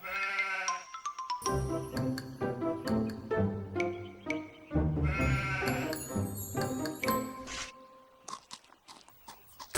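A cartoon sheep on a farm bleats repeatedly, a series of loud, close, wavering nasal calls in quick succession with brief gaps between them.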